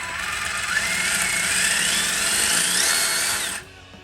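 A Tamiya Holiday Buggy RC car's electric motor runs continuously at steady speed during break-in, a close, loud whine that holds for about three and a half seconds and then cuts off abruptly.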